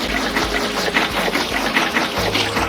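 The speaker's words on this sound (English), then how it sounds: "I'm going to go outside and water the pool." Steady water flowing and trickling into a backyard pool in a Mickey Mouse Clubhouse+ building game, a continuous close splashing stream with no speech.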